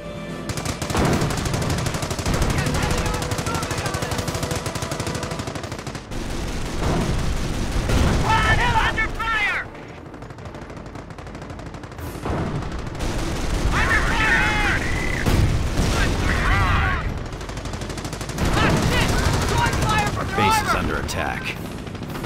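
Battle in the World War II strategy game Company of Heroes: heavy machine-gun fire and booming explosions in dense, loud waves with brief lulls, voices occasionally heard in the din.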